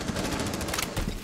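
Rapid automatic gunfire rattles in a burst of closely spaced shots from Rainbow Six Siege, fairly quiet and compressed over a continuous noisy backdrop.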